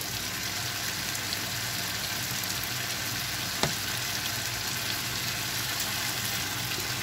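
String beans stir-fried with pork in a tomato sauce, producing a quiet, continuous sizzle and bubbling hiss throughout, with one brief utensil tap partway through.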